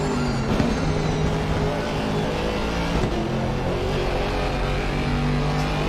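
A race car engine in an Imola endurance racing video game screams at maximum revs in fifth gear, a loud, sustained and steady roar with layered harmonic whine and no talking.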